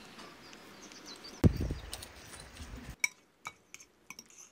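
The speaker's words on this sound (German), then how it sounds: "Eine frische Zitrone aufschneiden und auspressen" A fresh home-grown lemon is cut and squeezed over avocado, giving a soft burst of wet crushing and squelching at mid-clip, followed by a few light clinks of a utensil and a dish in a quiet kitchen.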